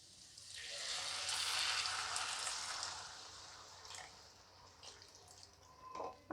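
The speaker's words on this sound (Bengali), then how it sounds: "আমি এখানে 1 মগ মতো জল দিলাম" Water is poured into a pan of sautéed elephant foot yam curry for a Bengali dish, giving a hissing, bubbling sizzle that swells over a few seconds, then fades to faint drips and a clink.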